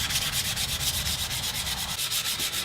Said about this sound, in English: Hand sanding.